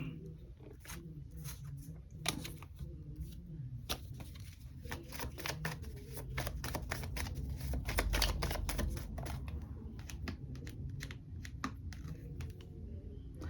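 Tarot cards are shuffled and drawn from a deck, giving close, soft riffling and flicking clicks in uneven quick runs over a quiet room hum, with faint talk in the background.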